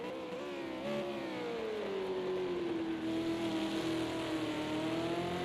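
A V8 Supercars race car laps a circuit in Project Cars on PS4, its engine a steady, droning whine that dips in pitch through a corner and then holds, with no talk.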